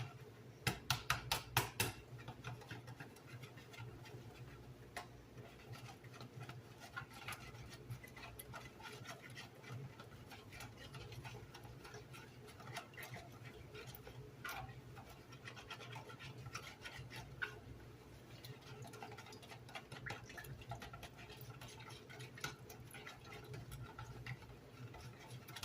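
Apple bread batter being whisked in a bowl: a quiet, fast, steady ticking and scraping that runs continuously, opening with a few sharper clinks.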